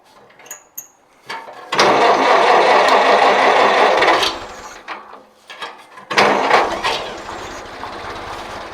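An IH Farmall Cub tractor's engine cranks with a few short bursts, catches and runs with a loud, rough clatter for a couple of seconds, cuts off, then fires again in choppy bursts.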